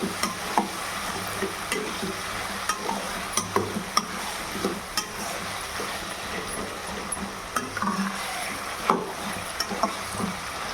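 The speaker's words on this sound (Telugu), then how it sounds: "సో ఇప్పుడు మళ్ళీ మునక్కాడలను బాగా తిప్పుతూ ఫ్రై చేయాలి" Moringa drumsticks frying in hot oil for a Telugu drumstick curry, a steady sizzle broken by frequent scraping stirs of a spoon against the pan, close and continuous with no talking.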